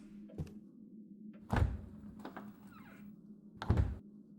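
A door opens in the horror video game Darkness Within, heard as two heavy thuds with creaking between them over a low steady hum.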